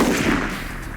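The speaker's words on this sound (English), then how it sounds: "Robbie Johnson sends 2 downrange and gets ahead of the judges." Rifle fire at an international sniper competition, 720 grain bullets sent downrange toward a 500 meter target; a loud, sustained blast fills the whole moment with dense broadband energy and no talk.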